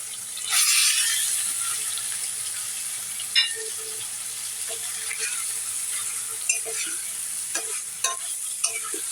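Boiled taro stolons fry with shrimp and green chillies in a pan, a continuous close sizzle broken by a few sharp clinks of a stirring utensil. No speech.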